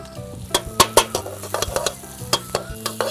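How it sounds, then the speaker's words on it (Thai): Garlic and chili are stir-fried in a little leftover frying oil, with a low sizzle under close, irregular scrapes and knocks of a spatula against the pan. "แล้วเราก็ใส่กระเทียมพริกของเราลงไปผัด"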